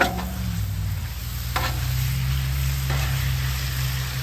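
Iguana meat fajitas sizzle loudly in a hot pan while being stirred and mixed, a continuous close frying hiss broken by a couple of scraping stirs.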